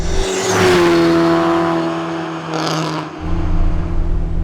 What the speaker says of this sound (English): Love how this car sounds